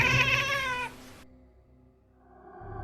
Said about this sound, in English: emit a guttural, animalistic meow